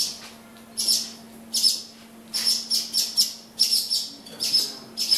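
Swallows chirping at their nests inside an old brick kiln at Impruneta, with repeated bursts of bright, high twittering calls coming in clusters over a faint steady hum.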